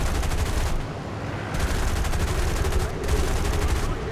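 Aircraft guns strafe a ground target in War Thunder, firing loud, rapid bursts of automatic fire with two brief pauses between them, close and continuous.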